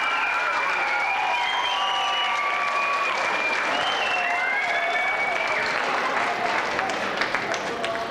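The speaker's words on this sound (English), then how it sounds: "I think we should give everyone a big round of applause for that." A school audience at a middle school student competition program applauds continuously, a dense wash of clapping mixed with scattered cheers and raised voices that hold steady throughout.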